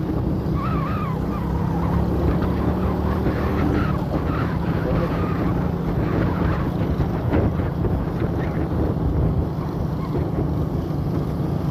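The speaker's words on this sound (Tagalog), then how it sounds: "Yamaha Sniper 150cc with sidecar." A Yamaha Sniper 150cc motorcycle fitted with a sidecar rides along a road in San Jose, Tarlac, its steady engine drone mixed with wind rush and road noise, with faint talk underneath.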